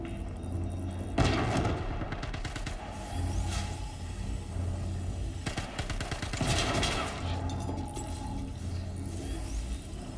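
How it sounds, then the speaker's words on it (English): Full-auto gunfire rattles in Star Citizen, with rapid bursts of shots and heavier thumps recurring over several seconds, close and loud, with no speech. "Here we go, full auto"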